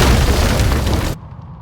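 A burst of gunfire in FNAF: Secret of the Mimic, a dense loud roar of shots at targets that cuts off abruptly after about a second, leaving a faint quiet tail.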